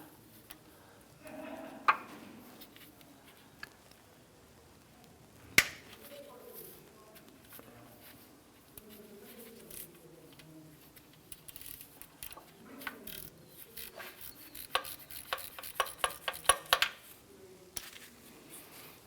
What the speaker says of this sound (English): Use our ratchet on the lower bolt.